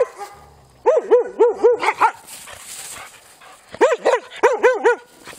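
Several elkhounds bark in two close, loud flurries of rapid yelping barks, separated by a short quieter pause.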